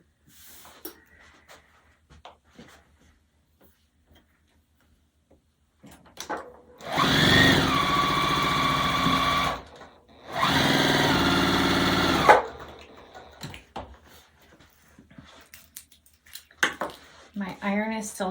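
A sewing machine stitches a quilt block seam in two sustained bursts of rapid, steady whirring, close and loud, with a short pause between them and quiet room noise before and after.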